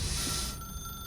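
A telephone rings in the video game The Stanley Parable, its ringing tone bright and steady through the first half-second before dropping away to a faint lingering ring, with no talk over it.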